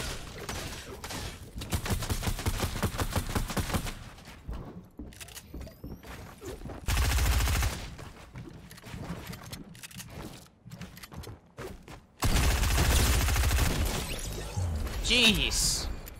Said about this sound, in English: They're crazy with those SMGs, man.